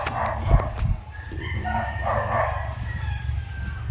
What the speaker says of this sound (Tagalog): At may mga boses pa ng mga manok na ligaw dito